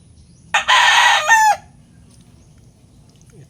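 A bulik gamecock stag gives one loud, close crow of about a second in a backyard, standing out against a quiet low rumble of background noise.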